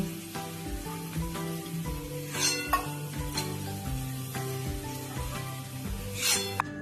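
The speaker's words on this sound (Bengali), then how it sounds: "রসুনগুলো দেখো লাল লাল করে ভাজা হয়ে গেছে।" Garlic cloves frying in oil for a loitta shutki and eggplant dish give a steady close sizzle, with soft stirring and a few utensil clinks against the pan throughout.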